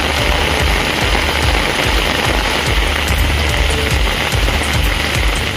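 Heavy rain pours down steadily, a loud, dense hiss of drops pattering on surfaces throughout, with a low engine-like rumble beneath.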